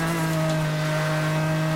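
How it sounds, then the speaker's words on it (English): Loud race car engine echoing inside a tunnel in the Need for Speed Hot Pursuit video game, a steady, sustained drone with strong harmonic hum and no change in pitch, heard alone. "When you go through the tunnel and you got a loud engine like that"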